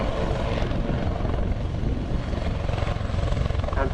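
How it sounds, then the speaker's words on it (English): Helicopter performing slow pirouettes along the display line at an airshow, a loud continuous rotor and engine roar with rhythmic blade chop, steady and fairly close throughout with no talk. "pirouetting the aircraft down the display line"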